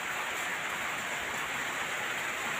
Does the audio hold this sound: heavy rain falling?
yes